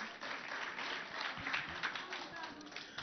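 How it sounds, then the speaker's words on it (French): Secondary-school students at a school quiz event in Biltine applaud in a steady burst of clapping, moderately close and loud, lasting the full few seconds. "Applaudissez pour vous."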